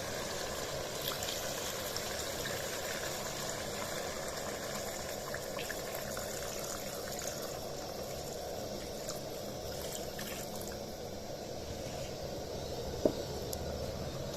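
Water pouring into a cooking pot, a steady continuous rushing and trickling stream, moderately faint and unbroken, with one small knock near the end.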